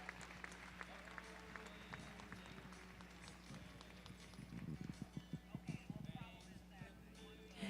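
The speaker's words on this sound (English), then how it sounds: "As always, I ask that you take them out with a nice round of applause." Applause from a crowd at a registered mare cart show in an arena, with horses clip-clopping on the ground and carts moving through, a sharper run of hoofbeats rising in the second half under steady background noise.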